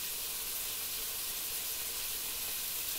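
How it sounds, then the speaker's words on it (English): A steady, dense sizzle of beef frying in a hot pan, a constant hiss with no voices over it. "You can hear the sizzling"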